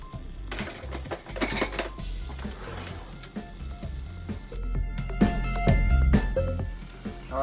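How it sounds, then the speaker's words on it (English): Homemade sofrito sizzles and fries steadily in a pot while cooking arroz con pollo, with occasional clinks and stirring knocks of utensils against the pan throughout. "All right, we got some sizzling going on with our sofrito."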